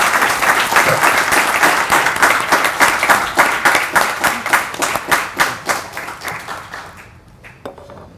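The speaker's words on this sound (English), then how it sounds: "Audience, let's give a thunderous round of applause to Dr. Duane Rousselle" A full audience at a Faculty of Arts & Sciences (AKU) book launch applauds Dr. Duane Rousselle: dense, steady clapping that thins into scattered claps and dies away near the end.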